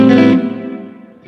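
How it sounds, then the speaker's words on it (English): A Strymon Big Sky reverb pedal produces a lush, heavily reverberated tone that swells briefly then trails off into a long, shimmering decay, with a faint new note entering at the end and no talking. "The next Strymon pedal is called the Big Sky. Just a lot of reverb, crazy reverb."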